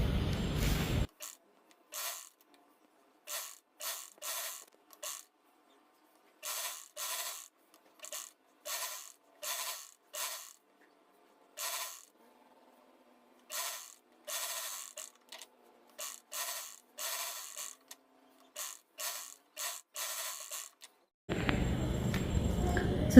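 A sewing machine stitches the outlines of an umbrella-cut dress in a long series of short, rapid clattering runs separated by brief pauses, close and fairly quiet.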